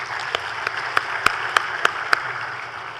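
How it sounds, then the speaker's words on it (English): Applause at a central bank monetary policy and financial stability statement, a steady wash of clapping with several sharper individual claps standing out at regular intervals. "I would kindly ask you to join me in giving them a round of applause"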